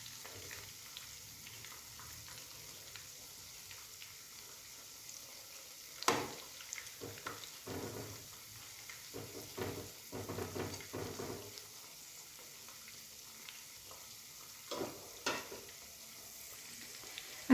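Boneless chicken pakoras fry in a pan after being flipped, with a quiet, close sizzle broken by intermittent scraping and stirring bursts.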